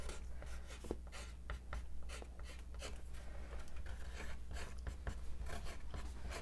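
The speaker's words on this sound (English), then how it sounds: "I'm just writing two little things on there that I can practice with" Pen or marker writing on small practice pieces of wood ahead of Dremel engraving, a steady close scratchy rubbing with short repeated strokes and taps throughout, no talking.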